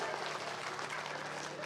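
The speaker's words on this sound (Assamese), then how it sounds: "সকলোৰে ৰাইজ আকৌ এবাৰ হাত তালি দিয়ক দলটোৰ কাৰণে" Crowd applause for the Rupjyoti Bihu dance troupe at an outdoor Hojai Bihu program, a dense, steady wash of clapping that stays fairly quiet and distant for its full length.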